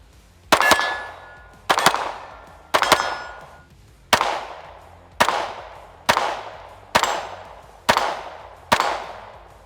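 Nine sharp gunshots from a Springfield Echelon Comp pistol, fired in a steady rhythm about one second apart, each crack loud and close with a ringing decay, no voices.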